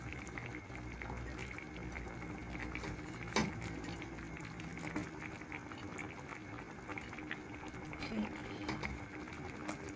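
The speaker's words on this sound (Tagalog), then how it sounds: "So, medyo kumulo na siya." Filipino mung bean stew (ginisang monggo) simmering in a pot: a soft, steady bubbling and gentle popping, quiet and close, with a couple of slightly louder blips.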